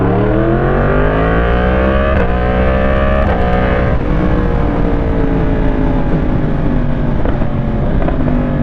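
A Yamaha MT-10 SP naked motorcycle revs hard through first gear, its engine note climbing steadily in pitch over several seconds with a steady roar and wind buffeting, loud and close with no talking.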